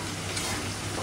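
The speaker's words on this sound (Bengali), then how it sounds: "এই পাশে চিংড়ি মাছ একটু ভাজা হোক" Shrimp frying in oil in a pan alongside beef and bottle gourd, a dense, steady sizzle heard close up without pause.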